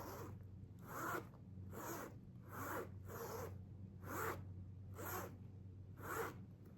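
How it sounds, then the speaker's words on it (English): A handbag zipper is run back and forth repeatedly, about eight quick rasping strokes in a steady rhythm, close up over a low background hum. "That is the softest zipper I've probably touched lately."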